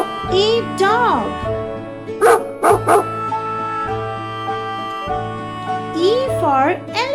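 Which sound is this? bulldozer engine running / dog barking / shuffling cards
dog barking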